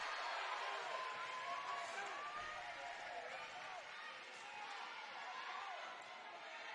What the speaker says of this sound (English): The crowd getting into it in Turner Gymnasium.